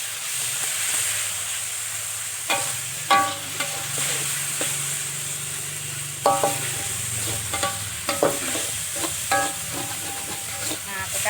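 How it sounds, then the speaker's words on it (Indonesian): Tofu frying in oil in a pan, a continuous close sizzle and hiss with occasional scrapes and clinks of stirring, no talk. "Jadi bentar pas masak tahunya."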